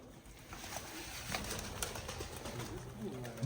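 Tashkent pigeons coo softly in a small pigeon loft, low murmuring calls under a faint, constant background hiss, with a few brief rustles.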